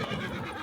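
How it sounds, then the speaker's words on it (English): Horses neigh loudly in a film scene, one brief close whinny filling the moment. "Nearby, horses neigh loudly and rear up."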